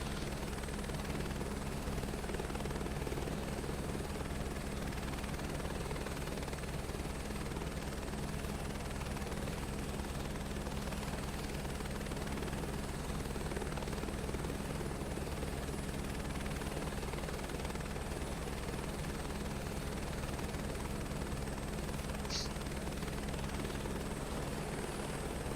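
A helicopter in Microsoft Flight Simulator 2024 drones steadily in flight, its rotor and engine producing a constant, even hum with no talk over it.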